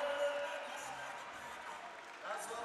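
A basketball crowd at a Logan arena cheers and applauds after a slam dunk, a broad, steady roar heard at a distance under a commentator's voice.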